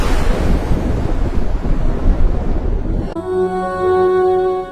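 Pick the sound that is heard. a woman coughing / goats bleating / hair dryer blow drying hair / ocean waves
ocean waves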